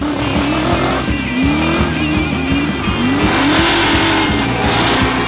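Ford Mustangs, including a 1968 model and an RTR, spin donuts with a loud, sustained tire squeal over a roaring engine that rises and falls in repeated revving sweeps, close and intense, with no speech.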